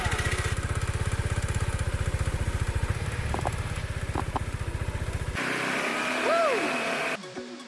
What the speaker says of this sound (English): So today we're renting a motorbike